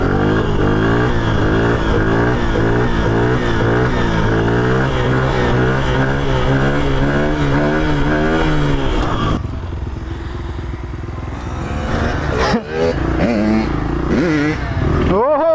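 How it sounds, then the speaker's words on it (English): Dirt motorcycle revving hard through power wheelies, a loud rising and falling engine wail for several seconds that drops to a lower idle, then climbs again as the throttle opens. "Power wheelies are fun."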